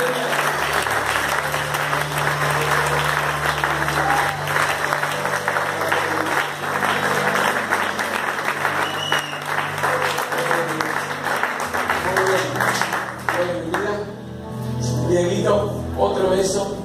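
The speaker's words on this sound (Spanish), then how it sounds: "Dale un fuerte aplauso a Jesús." A church congregation applauds loudly at a baby dedication service, sustained dense clapping from many hands with some voices and cheers, the mass of claps thinning and turning more scattered toward the end.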